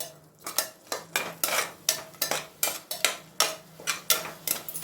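A spatula scrapes and stirs onions sautéing in a pan for egg biryani, giving close, rhythmic strokes about twice a second over a faint low hum, with no speech.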